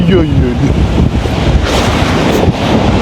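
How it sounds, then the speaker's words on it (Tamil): Stormy sea at Point Pedro, with rough waves crashing and surging continuously against the shore, mixed with heavy wind buffeting the microphone, loud and close throughout. "கடல் அலைகள் வந்து ஆக்ரோஷமாக எழுப்பிட்டு இந்த அலைகள் வந்து அடித்து"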